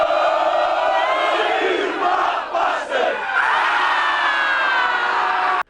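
A rowdy crowd at a soccer game roars with loud, sustained shouting and cheering, dense and close for several seconds before cutting off abruptly.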